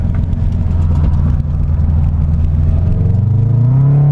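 A Subaru BRZ sliding as its tail steps out, heard as a loud, close, steady engine drone with a low rumble that climbs into a rising rev near the end, with no talking.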